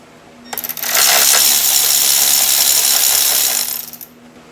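A ratchet backs out the lower intake manifold bolt near the dipstick on an MK5 GLI with the 2.0 FSI BPY engine. It gives one loud, continuous rapid clicking run lasting about three seconds, close up.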